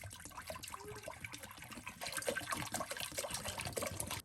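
Morshynska mineral water poured into a homemade mint lemonade with sugar water, a continuous soft splashing and trickling that grows a little fuller partway through, close but fairly quiet, with no speech.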